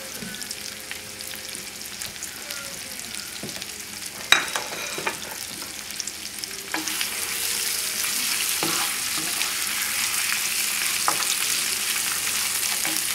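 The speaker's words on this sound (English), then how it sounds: "So we're going to quickly, on a high flame, get this browned up a little" A boneless veal chop browns in a hot pan over a high flame, giving a steady frying hiss that swells louder partway through, with a few sharp clinks and scrapes along the way.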